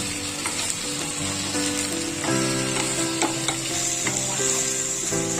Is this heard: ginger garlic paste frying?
yes